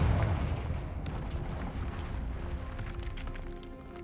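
Confringo fire spell blasts in Hogwarts Legacy, a loud booming burst followed by a crackling, rumbling fiery roar that slowly fades.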